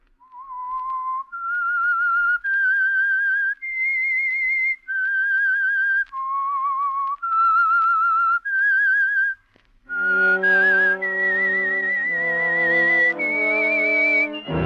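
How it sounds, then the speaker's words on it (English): The signature whistle of The Whistler, an old-time CBS radio drama, is a lone whistled tune of eight clear sustained notes, followed by a deeper, fuller orchestral phrase that carries the same melody. "That whistle is your signal for the Signal Oil program"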